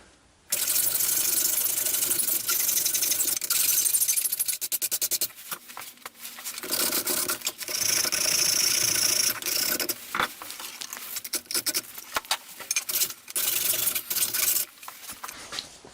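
Metalworking on a Yugoslavian Serbian metal mess tin lid, shrinking a corner: close, loud, rapid rattling hammering in long dense bursts broken by short pauses.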